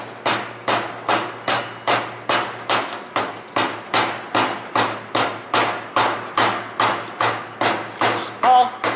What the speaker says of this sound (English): that's how a rock hammer works